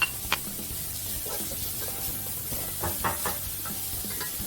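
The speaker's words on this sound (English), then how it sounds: "And then I'll add some diced onion into the same pan and let it soften up a little." Diced onion frying in bacon grease in a pan, a quiet steady sizzle with soft crackles and a few small stirring clicks, no talking.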